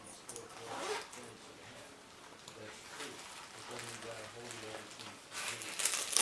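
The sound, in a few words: zipper of a small case with seashell zipper pull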